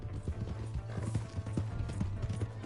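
Horse hooves clip-clop in a fast, rhythmic gallop in the video game Red Dead Redemption 2, close and steady with no talk over it.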